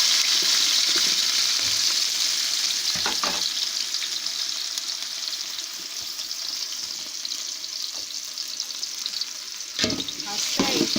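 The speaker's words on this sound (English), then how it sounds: "I'll be pouring in my chopped onions inside the pot." Chopped onions hit hot oil in a heated pot and sizzle in a bright, steady hiss, with a few louder crackling bursts and clinks of stirring along the way.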